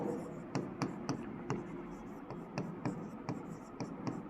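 A pen scratching out handwritten notes on paper in quick, evenly spaced strokes, fairly close and quiet, with a faint voice underneath.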